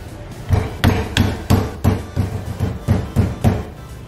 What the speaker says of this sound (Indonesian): Jadi tujuan ditumbuk ini supaya jengkolnya menjadi empuk.